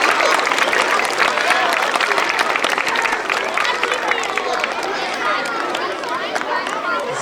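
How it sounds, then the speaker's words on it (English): Sustained applause from a large audience honouring classified and certificated staff members of the year, loud and steady clapping with crowd chatter mixed in throughout. "One more round of applause for our classified and certificated staff members of the year."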